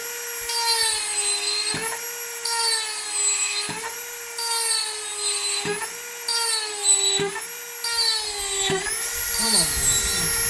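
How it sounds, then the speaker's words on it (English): A small high-pitched drill whines steadily, opening bead holes, its pitch dipping briefly every couple of seconds as the bit bites in, loud and close. "now I can start opening the bead hole."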